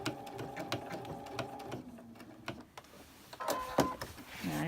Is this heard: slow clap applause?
no